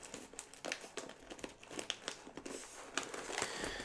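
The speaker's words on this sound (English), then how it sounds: "pretty cool packaging, nice and crinkly" Crinkly Star Wars Goldfish crackers packaging handled up close, with continuous bursts of plastic crinkling and crackling alone.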